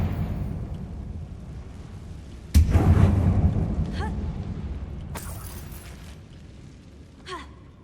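A single sudden blast from the Confringo spell in Hogwarts Legacy, set inside an old closed-off mine, bursting loudly out of quiet rumbling ambience and fading into a long rumble, followed by fainter crackling debris.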